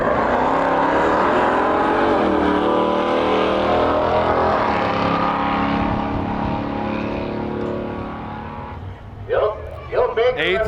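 A Studebaker roars off the line at a drag strip, its engine loud and sustained with rising harmonics, gradually fading as it pulls away; a voice speaks near the end.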